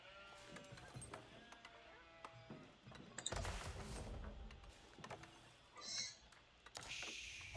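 Sheep bleating in the real-time strategy game Age of Empires 4, during a ranked Mongol versus France match, several short bleats scattered over busy game sounds and bursts of noise, with a narrator talking throughout.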